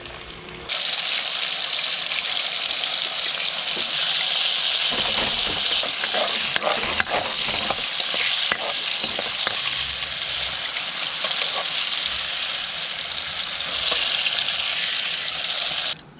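Whiting fillets coated in corn flour fry in very hot oil, making a loud, continuous close-up sizzle that starts abruptly and holds for about fifteen seconds with scattered pops and crackles, with no voices.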